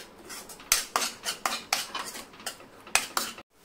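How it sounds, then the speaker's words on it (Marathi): A spoon stirs ground masala paste in a pan for a Malvani cashew curry, giving rhythmic metallic scrapes and knocks about every quarter second, close and distinct, then stopping abruptly near the end. "हे पण छान मिक्स करून याला तेल सुटेपर्यंत छान परतून घ्यायचे"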